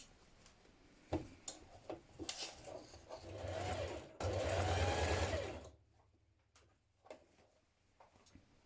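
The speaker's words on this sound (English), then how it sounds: "we're going to be working from the right side using the twin needle" A sewing machine stitches a leggings hem with a twin needle, running in two steady close bursts of whirring, framed by clicks and handling knocks, with no talk.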